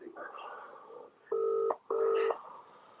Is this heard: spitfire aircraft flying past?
no